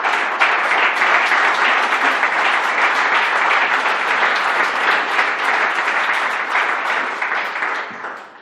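Sustained audience applause at a French political party speech, loud and dense, a steady wash of many hands clapping that carries on for several seconds before tapering off at the end.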